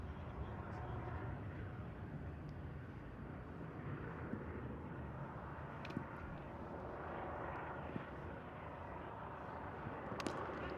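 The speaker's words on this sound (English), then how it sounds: "I can hear a helicopter flying by" Helicopter flying over a T10 cricket ground, a low steady engine rumble that stays constant under the commentators' voices.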